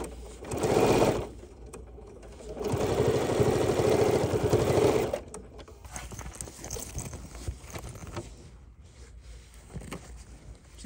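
A sewing machine top stitches binding on a fabric dopp bag, running in two close bursts of steady rapid stitching, the second longer, followed by quieter handling noise.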